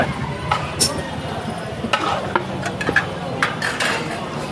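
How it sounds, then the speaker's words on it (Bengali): Kala bhuna beef curry stirred slowly in a large pot at a Naohata market stall in Rajshahi, with steady scraping and clinking of the spoon against the metal over a continuous busy background murmur. "এখন আস্তে আস্তে শুধু নাড়তে হবে যাতে নিচে লেগে না যায়"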